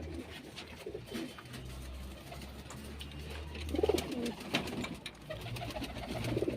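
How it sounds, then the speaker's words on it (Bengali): Big, high-flying pigeons in a loft give low, repeated throaty coos close by, rising and falling in a loose rhythm over a soft background of other bird noise, with no talking. "অরিজিনাল ব্লাড খুব সুন্দর কোয়ালিটির পায়রাগুলো বিগ সাইজ হাই ফ্লাইং"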